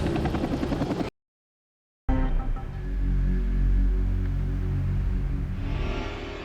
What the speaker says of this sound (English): As the chopper lands